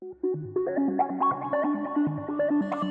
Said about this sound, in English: Maybe add a synthesizer on top.